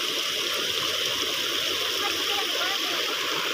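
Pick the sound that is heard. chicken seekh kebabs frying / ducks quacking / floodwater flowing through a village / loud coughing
floodwater flowing through a village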